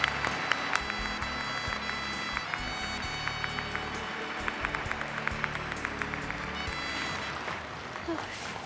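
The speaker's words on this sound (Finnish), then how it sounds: "Suuret aplodit tälle maailman naiselle." An audience in Finland welcoming Master Suma Ching Hai with dense, sustained applause: a steady crackle of many hands clapping, with a voice speaking over it.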